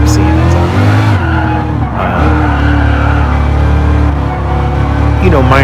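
Loud racing video game engine drone runs steadily with tires squealing and skidding through corners, a continuous, close, full mix with no pause.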